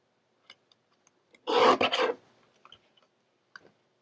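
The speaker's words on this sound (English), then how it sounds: "I'm just going to trim it ever so slightly" A paper card is trimmed ever so slightly. One close, dry scraping swipe of about half a second is set among a few faint ticks and clicks, and no one speaks.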